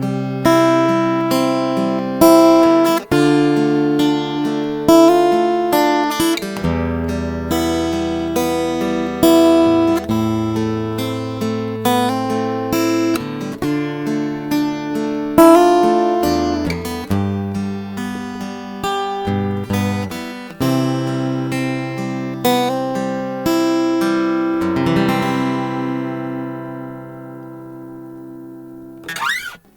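An acoustic guitar with an active pickup through an Ekustek DI box, clear and close, with plucked melodic notes and chords ringing out for a long passage before a final fading strum.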